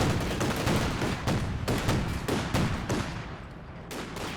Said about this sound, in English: so now we have the Ostwind against a unit behind light cover again